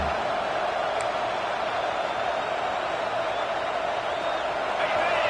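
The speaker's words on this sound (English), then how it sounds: "This crowd going to try to make life miserable for these guys." A college football stadium crowd roars in a constant, dense wall of noise at an LSU Tigers game, heard unbroken and fairly distant throughout.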